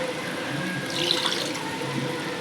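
Water is poured into a pot of mutton soup being cooked, a continuous splashing, gushing stream at moderate level lasting the whole clip, in a home kitchen.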